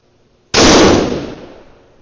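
A rifle fired during break-in of a new barrel on a Borden Black Knight action, set at tuner setting 0: one loud, sharp close shot with a decaying echo tail and no voices.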